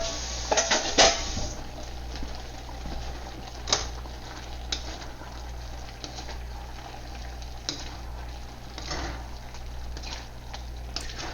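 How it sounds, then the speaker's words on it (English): Tofu and vegetables are stirred in a pan, giving scattered scrapes and clinks of a utensil against the metal over a soft, steady background hiss. "So I'm going to give it a stir again, make sure the tofu is well mixed in with the veggies."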